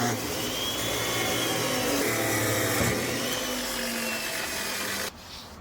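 Power tool cutting metal stock while fabricating a river anchor system, a loud continuous grinding roar with shifting pitch that holds steady for about five seconds before cutting off abruptly.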